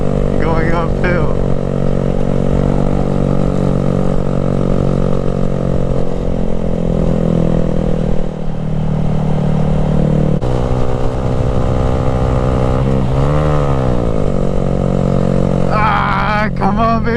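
A Honda Grom minibike engine strains and revs steadily while climbing an off-road hill, a loud, continuous droning buzz with pitch shifts as the throttle changes, with a voice speaking over it.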